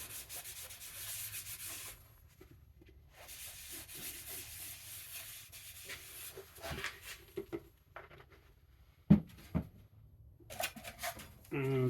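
Sandpaper of 180 grit rubs over a turned ash wood angel in two long, close bursts of soft scratchy sanding, separated by quiet pauses and followed by a few light knocks.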